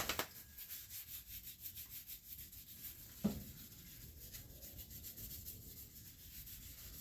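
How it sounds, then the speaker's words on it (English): Old motor oil being rubbed by hand onto smooth sanded wood, a soft, quiet, continuous rubbing close by with a single light knock partway through and no talk. "Just gonna rub that on."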